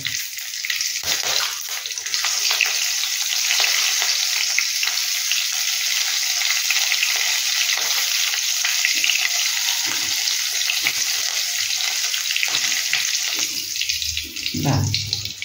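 Loud, crackling sizzle of curry leaves and green chilli frying in hot oil throughout, with occasional stirring scrapes and a short clatter near the end.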